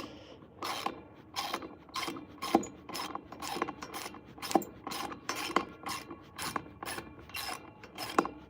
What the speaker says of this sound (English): What do we ever do before we had ratchets, huh?